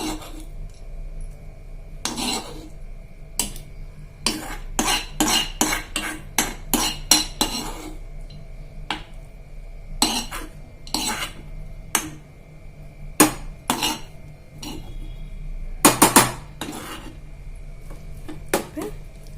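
A spoon works fried seasoning into curd in a bowl, making a long run of sharp metallic clinks and taps against the vessel, irregular and fast in bursts with short pauses, close and alone without speech.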